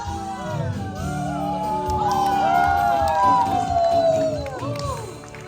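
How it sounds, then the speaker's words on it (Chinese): An audience at a live singing show screams and whoops together in rising, excited shrieks that swell and then fade, with shouting voices mixed in. "尖叫声！"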